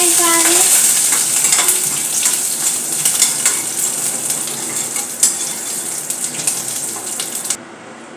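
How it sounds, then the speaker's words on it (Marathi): Curry leaves crackle and sizzle loudly in hot oil for falahari chivda, a dense, close, bubbling hiss with sharp pops that trails off at the end. "आता आपण कढीपत्ता घेतलेला आहे, कढीपत्ता तळून घेऊया."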